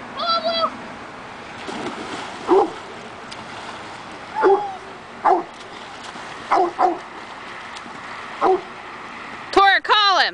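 A dog named Blue barks and whimpers in short yelps spaced out over several seconds near water, closing with a cluster of sharper high cries, while people call and talk in the background.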